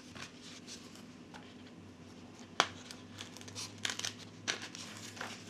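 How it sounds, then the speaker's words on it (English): Thin plastic canopy being peeled off a model airplane cockpit part, giving soft intermittent crinkles and a few sharp crackling snaps, close and quiet. "I'm going to peel the canopy off of here"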